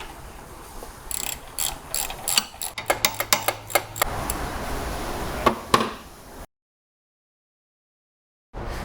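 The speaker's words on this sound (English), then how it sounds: "With the same 15mm ratchet, torque down the 3 bolts." A 15mm ratchet torquing down three sway bar bolts on a Jeep, a fast run of loud clicking pawl strokes in bursts, then a break to silence.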